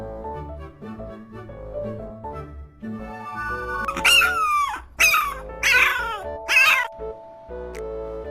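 A dog whimpering and whining, high drawn-out cries and yelps repeating several times in close succession, loud and near, with tonal background music underneath.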